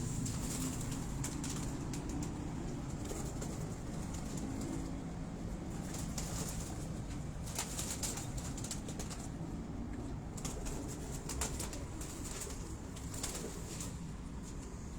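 Pigeons are handled on a Rawalpindi rooftop: wings flap in repeated bursts among steady cooing and outdoor noise, with no clear talk.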